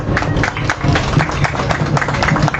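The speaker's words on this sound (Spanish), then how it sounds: "vamos a darle pues un aplauso" A conference audience claps steadily to welcome a speaker, a dense patter of hands filling the room for a couple of seconds with no talking over it.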